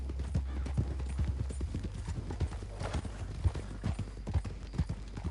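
Horse hooves in Red Dead Online clip-clop steadily and quickly on hard ground, several horses trotting together at moderate volume over a low background rumble.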